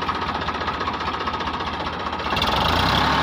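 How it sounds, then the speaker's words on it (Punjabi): A 1989 Ford 3610 tractor engine runs steadily with a knocking diesel rumble, then revs up louder near the end, close by and with no talking. "ਕਿੰਨੀ ਸਾਫ਼ ਆਵਾਜ਼ ਪਈ ਆ ਟਰੈਕਟਰ ਦੀ"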